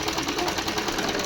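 A sewing machine stitches a blouse, a brief burst of rapid, evenly pulsing needle clatter heard up close.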